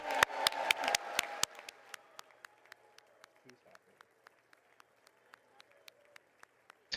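Applause in Congress for the President, heard through a broadcast, starts as a dense burst of clapping and quickly thins to scattered, faint single claps fading into quiet.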